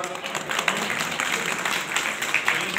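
A crowd at a regional traders' mahapanchayat organised by a business federation in Bareilly applauds in a steady, dense wash of clapping, moderately loud and continuous, with faint voices mixed in.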